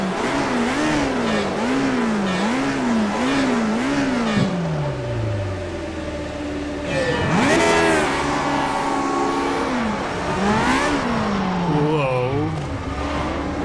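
Car engine in Farming Simulator 19 cranking and starting, then revving up and down in repeated wavering surges, loud and close, with someone talking over parts of it.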